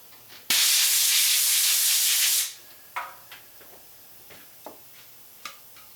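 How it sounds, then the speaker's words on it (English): Brake parts cleaner sprays in a loud continuous hiss for about two seconds into a part of a VZ61 Skorpion build, then stops; a series of light ticks and small metallic clicks follows at uneven intervals. "I'm going to spray brake parts cleaner in there."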